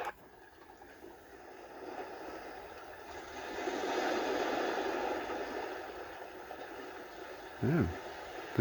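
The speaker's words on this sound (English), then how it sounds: "Gentle sea wave." A sound machine's gentle sea-wave setting gives a steady, soft ocean wash that slowly swells and fades, ending with a brief louder blip.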